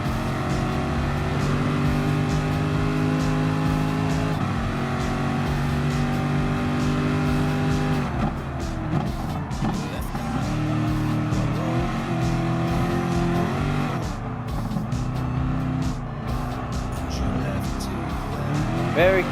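Race cars in Gran Turismo Sport, a Gr.3 one-hour race at Le Mans, with loud sustained engine drone and gear changes as the car closes in to pass a Nissan GTR, under ongoing talk.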